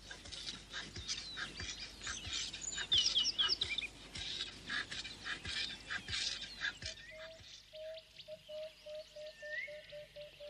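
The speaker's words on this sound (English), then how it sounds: "mating takes place to a serenade of sad-voiced wood doves" Wood doves call from a shady thorn-tree grove in African bush, with soft, mournful hoots that fall and quicken in a steady series in the second half, over a busy chorus of insects and other birds.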